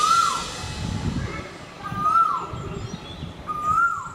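Frightened koel birds call from a nest in a tree, three rising whistled cries spaced a second or more apart, clear and fairly close, with soft background noise under them.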